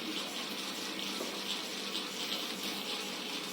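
Water being poured into spiced gram-flour batter for cabbage fritters, a soft steady trickle that runs evenly throughout without any talking.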